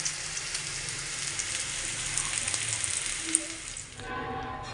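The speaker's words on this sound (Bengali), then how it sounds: "এখানে ফুলকপি আলু ভাজা বসিয়েছি" Cauliflower and potato frying in a pan, a continuous close hiss of sizzling oil like light rain, cutting off near the end as a brief tonal sound takes over.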